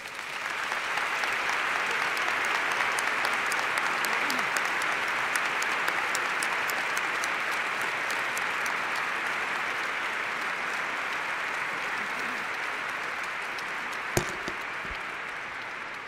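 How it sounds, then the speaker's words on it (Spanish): A large crowd gathered in a church for an archbishop's installation in La Plata gives long, steady, even applause that holds at full strength throughout, with one brief sharp knock near the end. "pido un fuerte aplauso"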